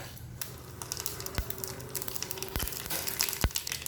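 Half a teaspoon of mustard seeds spits and crackles in hot oil, sharp pops scattered irregularly over a low sizzle, close up and with no talking.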